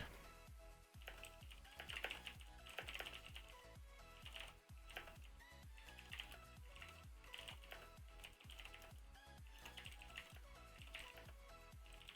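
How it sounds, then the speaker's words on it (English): Rapid typing on a computer keyboard, a quick irregular patter of close, crisp keystrokes continuing without pause over faint background music. "there will be frequent pauses for typing"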